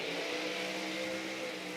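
A loud, steady nitro drag racing engine, such as a Mustang funny car, roars close by at a drag meet, its deep rumble holding with a slight rising edge through the whole moment, with no voices.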